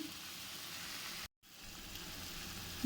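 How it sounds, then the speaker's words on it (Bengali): Bottle gourd and paneer curry broth with water bubbling in a pan, a faint steady simmering hiss with one brief dropout, no voices. "জল দিয়ে ঝোলটা একটু ফুটতে দিয়ে দিয়েছি"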